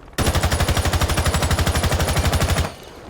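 Sustained automatic gunfire from a rifle in Rainbow Six Siege, one loud continuous burst of rapid evenly spaced shots lasting about two and a half seconds, close and alone, then cut off sharply.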